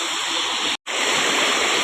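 Flood water from an overflowing river rushes through a culvert, a loud, steady roar of churning water with a brief cut in the middle.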